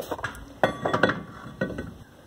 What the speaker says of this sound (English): The new rotor will slide on.